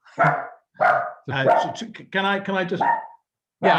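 A dog barks indoors in a room, a run of loud close barks and yips with short gaps between them, with a person's voice speaking briefly among them.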